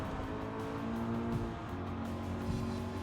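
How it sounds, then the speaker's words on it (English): Car engine and exhaust from a Ford Focus in Gran Turismo 7 on PlayStation VR2, a steady mid-pitched drone with a thin, light exhaust note that rises slightly in places, continuous and fairly close, with no talk. "the exhaust doesn't sound as throaty as it should"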